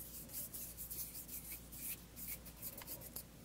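Skin rubbing close to a stereo microphone as an ASMR trigger, a soft continuous brushing friction with faint rhythmic swells, quiet and intimate with no talking.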